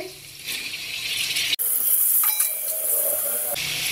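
Chopped tomatoes drop into a pan of lightly browned onions and sizzle loudly, a steady close hiss with a sharp bright surge after the addition, no voices.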